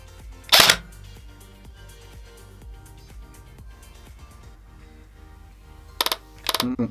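Shots from an ICS Hera Arms CQR airsoft rifle fired in semi-auto: one sharp crack near the start, then a quick cluster of three or four snappy shots close together toward the end, loud and close against a faint background hum.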